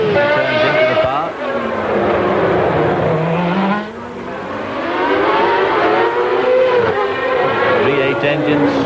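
Formula 1 car with a Cosworth Ford V8 engine racing at the 1992 Australian Grand Prix, a loud high-revving wail that rises and falls through gear changes, close and continuous.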